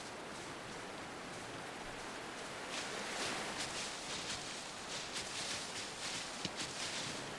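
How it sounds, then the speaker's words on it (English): Steady rain in the survival game Voyagers of Nera hisses softly as a continuous wash, thickening slightly partway through, with faint patter and no talk. "Look at that rain."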